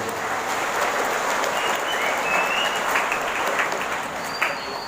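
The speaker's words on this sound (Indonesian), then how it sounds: "Tepuk tangan untuk para ulama dan kiai." Crowd at an Islamic boarding school gathering in Cipasung applauding religious scholars and clerics, loud continuous clapping filling the space for several seconds without a pause.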